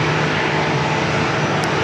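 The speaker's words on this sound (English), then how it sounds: "That was the flight that went around coming in from Sacramento, flight 4345" Airliner on approach into San Diego after a go-around, arriving from Sacramento; a loud, continuous engine roar with a low hum fills the short stretch, steady and close, without speech.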